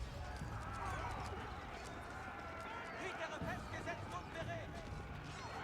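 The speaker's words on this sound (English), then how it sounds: "Horsemen chasing down horsemen. It's horse-on-horse violence." Cavalry horsemen galloping through a video game battle, chasing other horsemen, with a continuous clatter of hoofbeats mixed into busy game noise.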